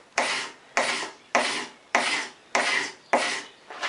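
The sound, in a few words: paint scraper scraping a wooden stool seat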